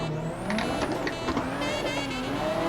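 Engine of a Toyota JZX90 drift car in Assetto Corsa revs steadily, its pitch sweeping up and dropping as it shifts into second gear, loud and close with no talk.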